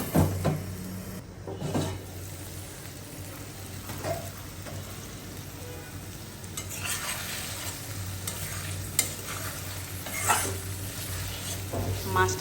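Potatoes frying with spices in a pan for a Bengali fish curry, a steady close sizzle with occasional stirring scrapes and clinks throughout.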